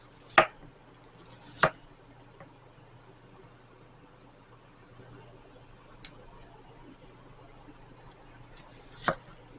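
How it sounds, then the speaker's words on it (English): A knife slicing onions thin on a cutting board, producing a few sharp isolated chops spread far apart with quiet gaps between them, close and crisp with no talk. "cut your onions thin, because you're not making onion rings, you're making crispy onions"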